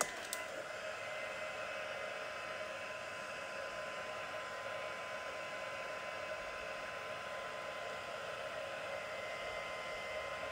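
Heat tool blowing hot air over embossing powder for gilded stamping, a steady loud whooshing roar lasting the whole stretch with no talk.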